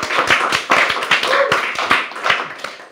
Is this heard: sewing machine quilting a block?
no